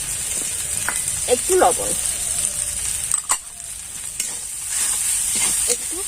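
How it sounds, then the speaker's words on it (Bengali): Boiled potato filling with turmeric being stirred in a hot pan, a soft continuous sizzle with scraping strokes, while someone speaks briefly over it. "একটু নেড়ে চেড়ে পুরটাকে করে নেব।"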